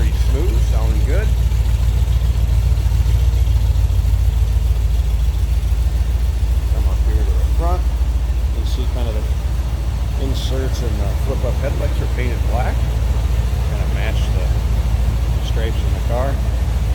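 A 1976 Chevrolet Corvette coupe's 350 V8 idles smoothly with a steady, deep rumble throughout, while a person talks intermittently over the engine noise.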